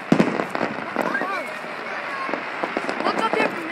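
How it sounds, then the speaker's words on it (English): Fireworks crackle and pop through a dense, continuous wash of sound, with sharp bursts at the start and scattered cracks throughout, while people talk and exclaim nearby. "we're waiting for the fireworks to get done."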